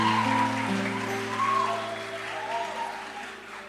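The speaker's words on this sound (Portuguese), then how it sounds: "Uma salva de palmas, gente, pela formatura dela" A church congregation applauds a graduate who has just finished a pedagogy degree. The clapping is brief and sits under a sustained musical drone, with no voices standing out.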